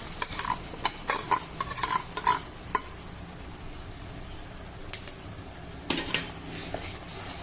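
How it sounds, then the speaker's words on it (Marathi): Masala paste being sautéed in oil with roasted gram flour over low heat, with a spoon scraping and clinking against the pan in irregular strokes over a soft, steady sizzle. "आता मंद आचेवर हे वाटण देखील आपल्याला छान परतून घ्यायचं आहे."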